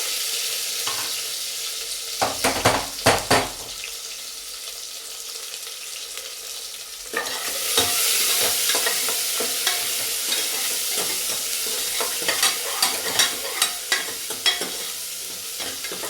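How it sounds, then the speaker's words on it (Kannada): Onion and tomato frying with kasuri methi in a pan for an egg and chicken curry, a steady close sizzle broken by scraping stirs, with a louder burst of frying and repeated utensil taps later on. "ಸೊ ಈರುಳ್ಳಿ ಹಾಗೆ ಟೊಮೊಟೊ ಸ್ವಲ್ಪ ಫ್ರೈ ಆದರೆ ಸಾಕು."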